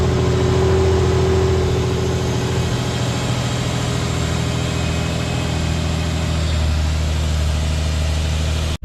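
An Infiniti G35 engine idles with a newly installed air intake, a loud, steady low-pitched hum and rumble sustained throughout, heard up close and alone before cutting off abruptly at the end.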